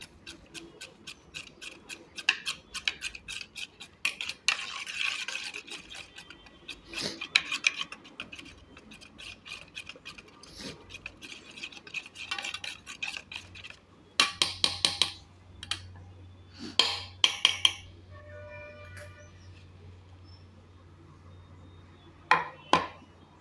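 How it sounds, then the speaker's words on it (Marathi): Oil rubbed onto a metal dhokla plate and the pans of an idli steamer, heard as close scraping, rubbing and light clinks of steel that come in irregular bursts, with some louder rattling of the plates toward the end. "आता मी इथे ढोकळ्याच्या प्लेटला आणि इडली पात्राला थोडंसं तेल लावून घेते"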